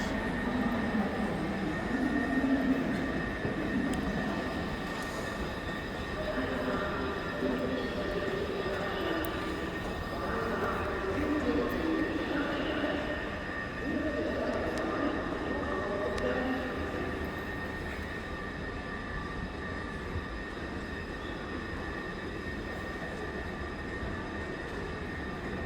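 A train runs on its rails on a summer trip in Berlin, a continuous rumbling roar with a steady tonal whine, heard from inside at moderate loudness with faint voices underneath.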